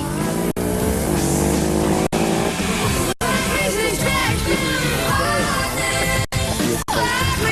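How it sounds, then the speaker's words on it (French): Mitsubishi rally cars leave the start of a very technical special stage between Tunis and Le Kef at the 1989 Rally of Tunisia. Loud, continuous engine roar with tire noise fills the scene, and voices may be mixed in. "Les premières voitures à partir sont les Mitsubishi, venus ici en force avec 3 pilotes, Lartigue, Da Silva et Fontenay."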